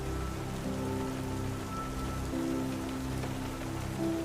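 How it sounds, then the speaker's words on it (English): Gentle rain patters steadily against windows on a rainy night, a soft continuous wash of drops with no voices, even and calm throughout. "the gentle sound of rain patters against the windows"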